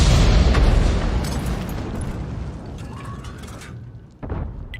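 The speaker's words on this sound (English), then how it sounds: "Looks like the one shell has actually hit the side of the turret." A tank shell strikes the side of an enemy turret in a tank video game, a loud booming impact that decays into a long rumbling tail, followed by a smaller thump near the end.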